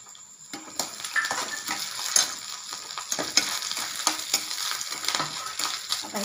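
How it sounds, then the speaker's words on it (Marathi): Cloves, crushed cardamom and whole dry fruits sizzle in a pan of hot fat for coconut rice, a steady close crackle with irregular pops and a few sharper spikes, no voices. "या लवंगा टाकून घेते। आणि हे 2 ठेचून घेतलेले विलायची आहे आणि हे पूर्ण ड्रायफ्रूट मी टाकून घेते"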